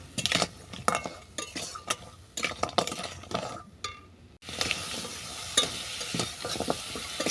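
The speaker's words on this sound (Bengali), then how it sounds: "আর বেশি গুঁড়ো হলুদ মশলা দিয়ে কাঁকড়াটাকে ভালো করে কষিয়ে নিচ্ছি" Crab pieces sautéing with turmeric and ground spices, stirred hard in a pan, with repeated metallic spatula scrapes and clinks over a crackling sizzle, close and busy, the frying loudening after a brief pause.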